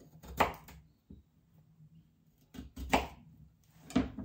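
A knife cuts small red potatoes into quarters, giving three distinct chopping strikes against a board spaced about a second apart, close and fairly quiet, with no one talking.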